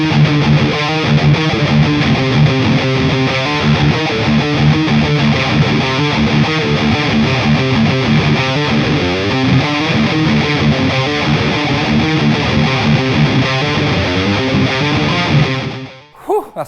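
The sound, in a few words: electric guitar through ML Sound Lab Amped CB4 high-gain preset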